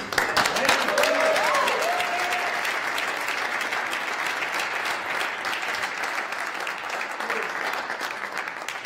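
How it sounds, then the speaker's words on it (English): Sustained applause from an audience after a hardball doubles squash tournament final, a dense steady clatter of many hands filling the room, loud at first and tapering only slightly, with brief whoops or calls near the start. "another round of applause for fabulous"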